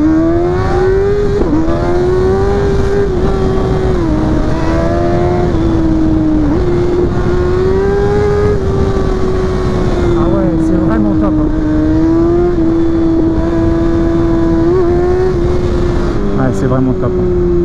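Engine of a 2020 Kawasaki ZX6R motorcycle while riding, a steady, loud drone with slight rises and dips in pitch throughout, continuous with wind noise, while someone talks over it.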